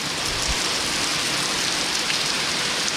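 Heavy rain pours steadily, a dense, constant hiss of drops beating on surfaces close by.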